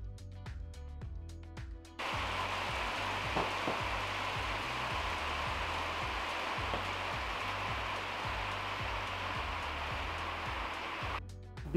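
Steady rain falling and pattering on surfaces during a winter crappie fishing trip in Illinois, a continuous loud hiss that covers nearly the whole stretch, with brief louder sounds at the start and end.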